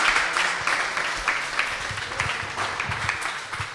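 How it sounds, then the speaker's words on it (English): Audience at a youth town hall gives the representatives a round of applause, a fairly loud, dense clapping that starts strong and slowly fades across the clip, with a few low thumps underneath. "just to give all our representatives here a round of applause"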